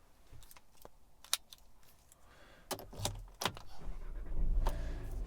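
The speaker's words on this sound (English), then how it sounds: "having to turn a key to get the thing started" Keys jangle and click as a key is turned in the ignition of a 2019 Audi Q3, followed by the engine cranking and rumbling to life quietly up close.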